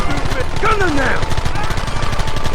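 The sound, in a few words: gunfire from the video game Red Dead Redemption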